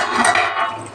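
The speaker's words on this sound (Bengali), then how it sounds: "এবারে ঢাকনাটা আমি খুলে দেখবো কেমন হয়েছে।" A metal lid lifts off a cooking pot of chicken curry with a brief, bright clink and a short ringing scrape, close and alone.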